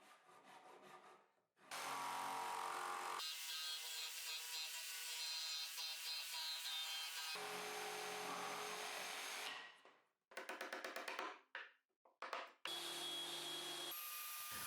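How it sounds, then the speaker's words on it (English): Hand saw and jigsaw cutting a recess into the back of a wooden workbench, loud sustained buzzing sawing in long runs, then several short choppy cuts with brief pauses. "Now with a hand saw and a jigsaw, I'll finish the recess on the back of the bench where the carriage will slide."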